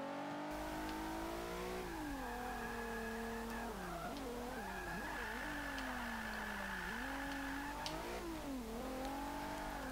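A 2014 Infiniti Q50 Eau Rouge in Forza 5, engine droning steadily as revs rise and fall through gear changes, with occasional tire squeal, close and continuous without talk.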